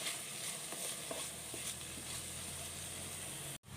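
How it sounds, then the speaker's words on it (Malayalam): Ponnanganni spinach frying in hot oil in a pan, with a steady, close sizzle and crackle throughout and no voices, ending in a sudden brief cutoff. "ഈ ചീര ഒന്ന് വെന്ത് വരണം ഈ എണ്ണയിൽ കിടന്ന് തന്നെ വെന്ത് വരുമ്പോൾ നല്ല ഒരു ടേസ്റ്റാണ്"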